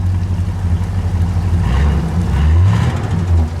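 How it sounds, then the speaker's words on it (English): A prototype 1978 Cadillac Eldorado Biarritz engine idles low and steady, then revs up briefly and settles back, close by with no talking. "Go ahead, feel free to give it a rev."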